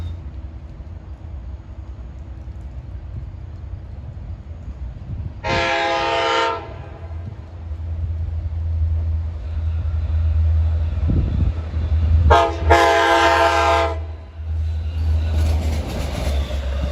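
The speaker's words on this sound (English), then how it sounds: "Spectacular K5LA horn on this locomotive, the 518." Two loud, blaring K5LA horn blasts from a Long Island Rail Road DM30AC locomotive, the second longer, sound over the low rumble of a passing train, with a short chime-like hoot between them.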